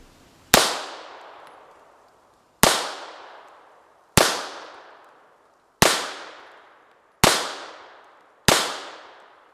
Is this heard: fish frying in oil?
no